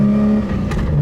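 Engine of a 900 hp AWD Skyline GTR with a 2.8L stroker and HKS T51R turbo, revving hard on its first nitrous hit; a loud, steady drone that roughens and builds near the end, up close.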